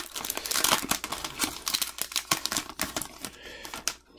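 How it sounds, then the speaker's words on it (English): Baseball card hobby packs are torn open by hand, with close crinkling foil wrappers and sharp rips coming in quick bursts. "We're going to rip these hobby packs."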